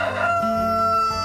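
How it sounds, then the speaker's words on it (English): A rooster crows in a short, loud, close cock-a-doodle-doo that rises and then falls, heard alone in a children's farm story. "Cock-a-doodle-doo!"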